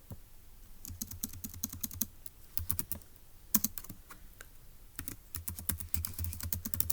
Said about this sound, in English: let's go ahead and type that up in our notes in section E